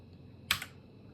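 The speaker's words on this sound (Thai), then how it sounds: "ต่อมาเราจะมาพิมพ์คำสั่งเพิ่มเติมนะครับ" A short burst of computer keyboard typing while entering Linux commands, a quick cluster of two or three close, crisp key clicks in an otherwise quiet room.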